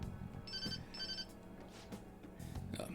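A phone rings in Persona 5 Royal, two short bursts of electronic ringtone chiming over quiet background music, no speech.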